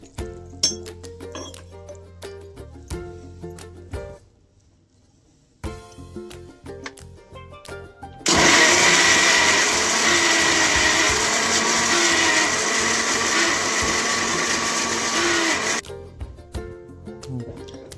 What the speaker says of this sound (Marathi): सर्वप्रथम मिक्सरच्या भांड्यामध्ये कांदा टाकून घ्यायचं.